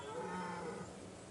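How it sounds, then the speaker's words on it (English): A bear growls in Kingdom Come Deliverance 2, a low continuous rumbling roar with no gaps that carries evenly through the whole moment at moderate loudness, with nobody talking over it. "I hear a bear, I think."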